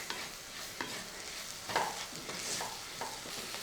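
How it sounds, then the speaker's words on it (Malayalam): A spatula stirs egg chilli with spices in a frying pan, giving soft scrapes and a few light knocks over a faint, low sizzle. "നന്നായിട്ടൊന്ന് ഇളക്കിയെടുക്കുക"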